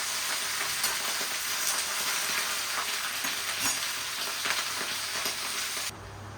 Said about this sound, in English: It seems that only in China do people use iron woks to stir-fry dishes.